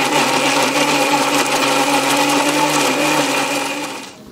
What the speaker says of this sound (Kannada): ಇನ್ನೀಗ ಎಲ್ಲವನ್ನು ಕೂಡ ಮಿಕ್ಸಿ ಜಾರಿನಲ್ಲಿ ಹಾಕಿ ರುಬ್ಬಿಕೊಳ್ಳುವಂಥದ್ದು, ನೈಸ್ ಆಗಿ ರುಬ್ಬಿಕೊಳ್ಳುವಂಥದ್ದು